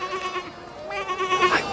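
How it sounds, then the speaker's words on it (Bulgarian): A sheep bleats in a short, wavering call, with a second louder bleat following a brief pause; close and clear with no talk over it. "Я каква овца!"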